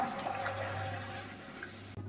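Water is poured into a pan of sautéed upma mixture, a steady soft rushing splash that runs for about two seconds before cutting off, with no talking.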